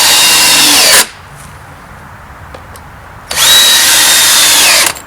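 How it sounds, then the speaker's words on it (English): A power drill pre-drilling holes in wood boards for a raised garden bed, two loud, close whirring bursts of about a second and a half each with a short quiet pause between. "So we always pre-drill holes."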